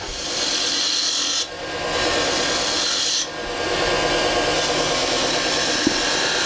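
A spindle gouge cuts a cove into wood spinning on a lathe, giving a close, steady, loud rasping hiss that dips briefly twice before carrying on.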